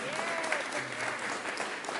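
Church audience giving a brief round of clapping, a soft, even patter of many hands at moderate distance, steady for a couple of seconds.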